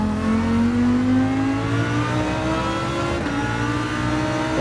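Lamborghini Huracán GT3 race car in a racing video game accelerating hard, the engine note climbing steadily in pitch with a brief dip at an upshift, loud and close throughout.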